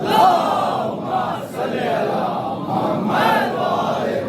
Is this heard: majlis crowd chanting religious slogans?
yes